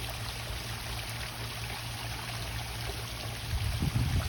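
A thin trickle of water runs from a garden hose into a backyard koi pond while sprinklers run, a steady soft hiss and splash that swells slightly near the end.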